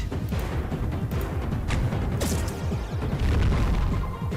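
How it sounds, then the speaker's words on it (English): A flashbang goes off in the space strategy game Halcyon 6, a dense rumbling burst of booming low impacts and crackle sustained over several seconds, loud and continuous. "I'm going to use the flashbang on that guy"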